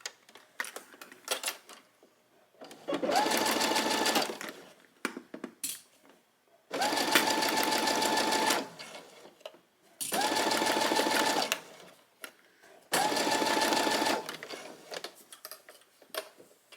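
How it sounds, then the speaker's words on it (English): A sewing machine top stitches around a tiered skirt in four steady runs of rapid mechanical stitching, each lasting a few seconds. Quiet handling clicks fill the pauses between runs, all close to the microphone. "I'm just going to top stitch all the way around"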